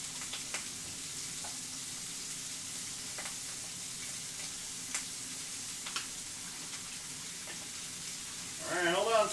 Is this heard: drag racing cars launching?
no